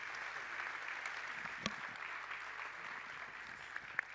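Audience applause at a tourism awards evening in Pau, a continuous, fairly faint wash of many hands clapping at an even density throughout, with a few slightly sharper claps standing out.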